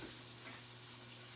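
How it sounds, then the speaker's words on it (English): A pot of sushi rice boiling over on the stove gives a faint, steady sizzle and hiss with no talk over it. "We're just waiting on our rice. It's boiling over."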